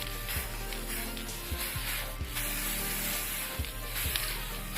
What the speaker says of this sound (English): when you're spray painting